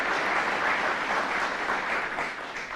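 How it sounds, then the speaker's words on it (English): An audience at a public safety press conference in Rochester applauds law enforcement members, steady dense clapping throughout that fades slightly at the end. "Let's give all the members of law enforcement a round of applause."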